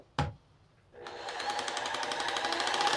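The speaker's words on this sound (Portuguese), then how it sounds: "Observa que eu estou com a furadeira o mais reto possível, né? E eu começo sempre a furar bem devagar." An electric drill starts after a brief click and bites into a wall for an air conditioner mount, building from slow to a steady, rising, gritty whine that keeps grinding through to the end.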